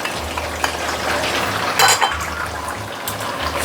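An egg cracked into a hot pan for chow mein fries with a loud, close, steady sizzle, joined by a few brief utensil clinks and scrapes.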